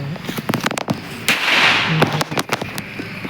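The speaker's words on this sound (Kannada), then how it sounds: "ಲಾಸ್ಟ್ ಪಟಾಕಿ ಮುಗೀತು ಗೈಸ್" Firecrackers pop and crack in a rapid irregular burst, sharp bangs close by, with a brief hissing fizz in the middle.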